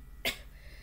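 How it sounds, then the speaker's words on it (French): A single short cough bursts out of a quiet room, close and moderately loud. "le fait que je suis en train de tousser"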